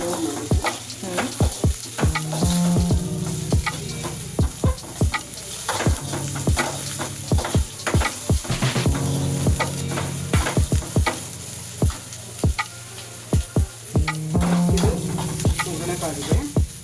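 Chopped onions fry in an oil tempering for South Indian curd rice, a loud continuous sizzle broken by frequent sharp scrapes and clicks of a spatula stirring the pan.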